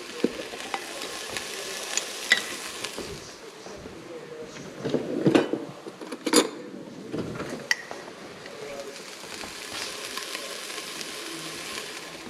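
Bacon grease fries in a pan as food is cooked, a steady sizzling hiss with clinks and stirring scrapes from utensils, and a person talks at points over the frying.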